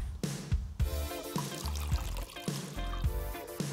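Vinegar poured into a red cabbage indicator in a kitchen, a gurgling liquid pour in short splashing bursts, fairly close.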